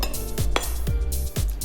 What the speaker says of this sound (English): I'm just gonna put the bacon into a cold cast iron frying pan